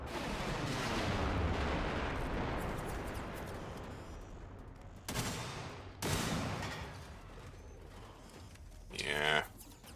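Heavy gunfire in the Generation Zero video game, dense and continuous at first, then sharper separate bursts toward the end, with a few louder cracks standing out.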